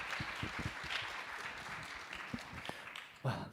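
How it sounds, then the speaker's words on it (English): A summit audience applauds a youth panel, a moderate spread of clapping that thins out and fades, with a few louder individual claps near the end. "Let's give them a round of applause again"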